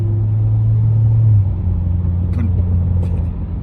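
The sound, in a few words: car exhaust popping as an SS drives past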